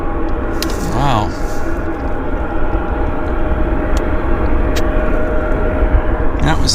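A passenger airliner arrives at Vancouver airport, inbound from Incheon, its engines making a steady broad roar that holds throughout. Someone talks over the noise, and brief tonal sweeps and clicks surface near the start.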